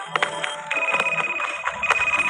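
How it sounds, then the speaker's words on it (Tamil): A phone rings with a steady electronic ringtone of repeated bright tones that go on continuously. Faint clicks and rustles sit underneath, and no one speaks. "அங்கே ஒரு ஃபோன் வந்து இங்கே ஒரு ஃபோன் வருது"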